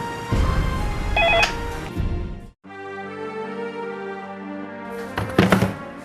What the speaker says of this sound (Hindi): काफी देर से आपका फोन बज रहा है सर